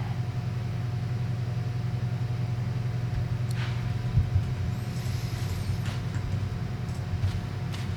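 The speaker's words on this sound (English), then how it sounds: "What is this thing? An engine?" A deep engine rumble hums steadily throughout, low and continuous, from a mechanism in the video game Divinity Original Sin 2, with faint higher clatters rising briefly near the end.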